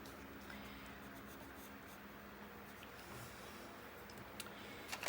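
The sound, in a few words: colored pencil shading on paper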